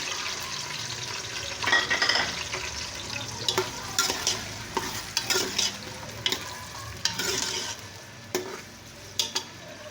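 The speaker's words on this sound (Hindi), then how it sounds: "दो दरमियाने साइज के प्याज काटे हुए हैं, ये डाल दिए इसमें।" Two medium chopped onions hit a pan over a medium flame for a beans and mince dish, giving a steady close sizzle broken by frequent scraping stir strokes.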